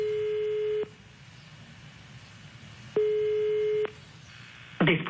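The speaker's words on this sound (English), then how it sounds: "We'll now dial the international number" Telephone line tones while an international number is dialed: two long, steady beeps separated by a pause, each close and clear, followed by a short burst of noise at the end.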